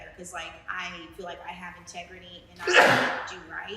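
A single sharp sneeze bursts out near the end of a podcast conversation, loud and close, right after a stretch of steady talking.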